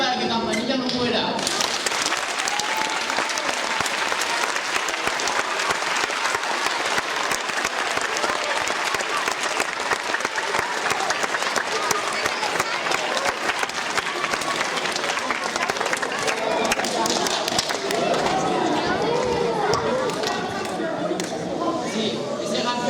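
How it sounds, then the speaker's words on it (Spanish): A theatre audience at a Peter Pan play applauds loudly and continuously for Tinker Bell, dense close clapping filling the whole stretch with crowd voices mixed in. "Entonces aplaudid muy fuerte para que Campanilla no muera."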